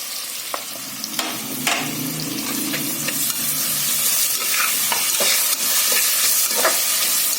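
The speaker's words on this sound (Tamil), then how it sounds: "இதுவும் போட்டு ஒரு 2ல இருந்து 3 நிமிஷம் நல்லா ஃப்ரை பண்ணேன்." Onions and tomatoes sizzle steadily in a hot pan, with occasional clinks and scrapes of a stirring spoon, close and continuous.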